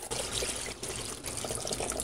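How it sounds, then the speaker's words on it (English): Green almond liqueur pours slowly from a container into a narrow bottle, giving a steady, close liquid trickle and splash that runs the whole time with a brief break near the middle. "And we will pour this slowly"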